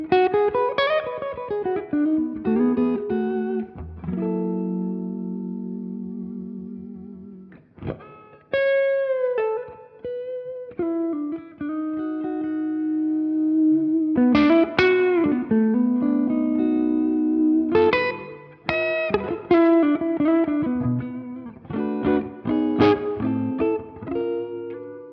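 A semi-hollow electric guitar played through a loud amplifier rings out with sustained notes, bends and vibrato, feedback swelling in between phrases over about twenty-five seconds of continuous, reverberant playing without voices.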